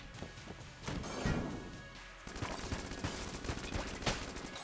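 A gun in the game Enter the Gungeon sprays bullets, producing a steady clatter of rapid shots with a few heavier impacts, fairly quiet and continuous across the stretch.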